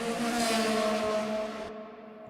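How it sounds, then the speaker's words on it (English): A Formula One race car roars past at high revs, its engine whine loud and sustained before cutting off abruptly, leaving a faint fading hum. "a free car Formula One sound effect"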